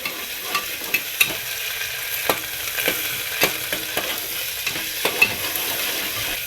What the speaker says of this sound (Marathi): कोथंबीर आता याला छान प्रकारे असं हलवून घेऊ मस्तपैकी